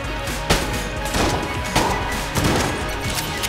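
A double-barrel gun fires in a shooting video game. Several punchy blasts come at irregular intervals over busy, dense game noise.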